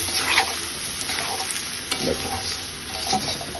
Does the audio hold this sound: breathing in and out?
no